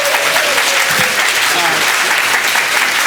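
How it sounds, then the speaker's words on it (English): A crowd at a presidential election event applauds, a loud, dense and continuous burst of clapping with some voices mixed in, filling the whole short stretch. "Give him a round of applause."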